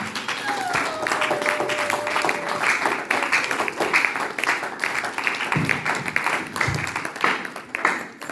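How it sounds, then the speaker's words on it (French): A church congregation applauds, a sustained, dense wash of many hands clapping together, moderately loud and continuous from start to finish. "Nous acclamons pour la gloire du Seigneur."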